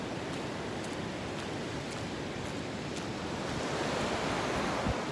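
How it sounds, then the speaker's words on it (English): Ocean waves roll in on the shore in a steady broadband rush of surf, with wind buffeting the microphone and a slight swell in loudness toward the end. "Water coming in."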